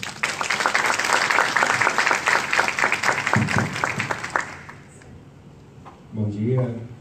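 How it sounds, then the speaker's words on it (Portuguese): Audience applause at the opening of an academic event on Black culture, a burst of clapping that fades out after about five seconds, followed by a brief moment of someone speaking. "peço uma salva de palmas"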